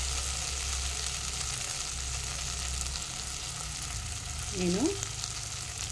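Bitter gourd curry with chilli powder cooks in a pan, giving a steady, moderate frying sizzle throughout, with a brief spoken word near the end.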